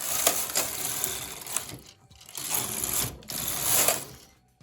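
A knitting machine carriage knits two rows of pink viscose yarn, making a close, clattering mechanical whir that rises and falls in two long passes with short pauses.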